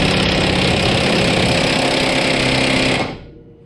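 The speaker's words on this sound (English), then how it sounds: "Having a cordless impact is nice, but man, they are heavy and they're bulky." A cordless impact wrench removes engine bolts on a Honda Civic road race car, hammering in one loud, continuous rattling burst for about three seconds before cutting off abruptly.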